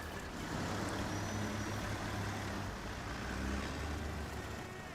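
A truck engine in an off-road mudding and climbing video game, a steady low rumble with a faint whine held at an even level throughout, with no talking.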